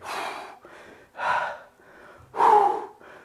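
Heavy, gasping breaths during a hockey training workout, three loud exhales in a steady rhythm with quieter breaths between, close and alone with no talk.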